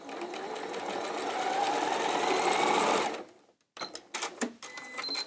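A sewing machine joins quilt strips in one fast, steady loud run that stops abruptly, followed by clicks and fabric handling.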